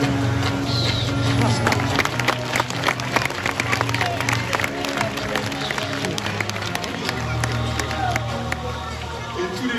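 Audience at a zoo water show claps and cheers, with dense crowd clapping and excited voices, alongside an amplified voice and a low musical hum throughout.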